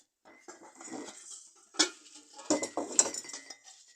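Metal cooking pots are unpacked from a parcel sent from Poland and handled, with repeated clanks and clinks of lids and pot bodies knocking together in irregular bursts, fairly close and moderately loud, with no talk.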